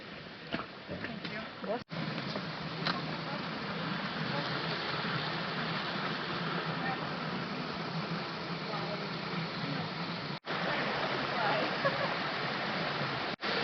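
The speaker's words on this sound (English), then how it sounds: "So we see a waterfall over there" A waterfall in Thunder Canyon sends up a steady broadband rush of falling water that holds constant through the whole stretch, with faint voices and footsteps under it.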